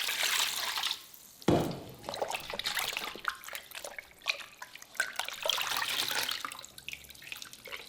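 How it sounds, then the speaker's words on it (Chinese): Hot water runs over raw pig stomach strips in a kitchen sink, a steady pouring and splashing wash with a sharp burst of water around the second mark, continuing alone without talk. "5分钟之后，加入滚水清洗干净备用。"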